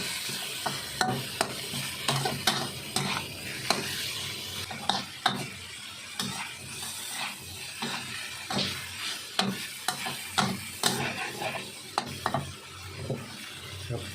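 Pork cooking in a pan for a stir-fried three-flavor dish sizzles steadily, with a utensil stirring and scraping against the pan in irregular, sharp clicks throughout, close and moderately loud.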